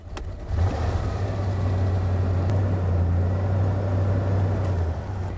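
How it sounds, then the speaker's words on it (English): A 1992–96 Ford Bronco with 212,000 miles, long sitting in weeds, cranks and catches about half a second in, then runs at a steady, loud, low idle rumble close by with no talk. "Start her up."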